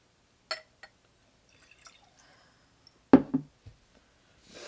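Bourbon poured into a glass at an indoor tasting: a faint brief trickle, then a louder splash and a few clinks and drips near the mic, followed by a soft rustle.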